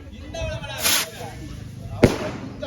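Firecrackers set off outdoors at a village Pongal celebration: two sharp bursts, the second louder, under a steady murmur of people talking nearby.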